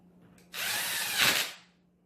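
A power drill tightens a nut on a fishing rod handle in one short burst lasting about a second, loud and close, with its pitch rising slightly before winding down. A faint hum sits under it before and after.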